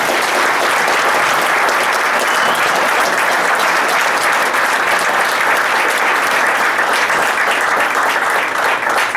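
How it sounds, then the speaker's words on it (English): An audience at a fall dinner applauds, giving a dense, steady round of clapping that stays loud and even for about nine seconds with no talking. "he deserves a round of applause right now"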